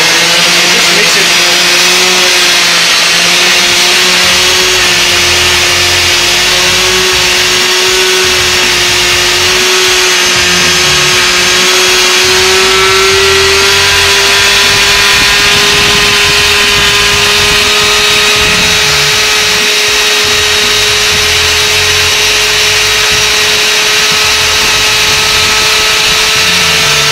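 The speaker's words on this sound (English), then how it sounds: "There I just take my mixer, you know, at home you can very well use a little Vita mixer, like a countertop mixer" A countertop Vitamix-style mixer blends asparagus soup in a loud, steady motor whir that runs unbroken for the whole stretch, its pitch creeping slightly upward as it spins.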